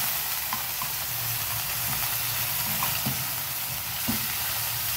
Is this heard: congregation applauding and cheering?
no